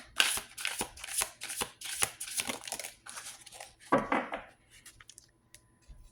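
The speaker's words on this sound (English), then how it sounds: "I'm going to pull another card." Tarot cards are shuffled and drawn by hand in a quiet room, making a run of crisp, papery riffles and flicks in uneven bursts, followed by softer slides as a card is pulled, with no talking.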